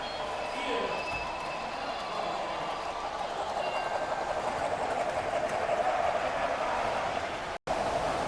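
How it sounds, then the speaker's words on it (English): A 90-year-old model train engine rumbles steadily past at close range at a theme park, a continuous rolling clatter filling the clip before cutting off briefly near the end. "Here comes a 90-year-old engine."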